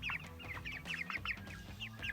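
Oversized meat chickens too big to walk properly cluck and squawk in a quick, repeated series of short calls, fairly quiet and close, with no talking.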